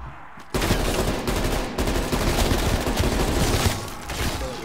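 Dense, continuous automatic gunfire from Call of Duty: Black Ops Cold War in Zombies mode, loud and close with rapid bursts running almost without a break.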